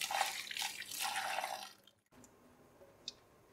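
Hot water from freshly boiled rice pours through a strainer in a steady, splashing gush for about two seconds, then only faint scattered drips remain, heard close and quiet without speech.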